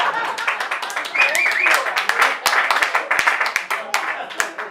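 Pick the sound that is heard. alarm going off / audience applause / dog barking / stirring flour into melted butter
audience applause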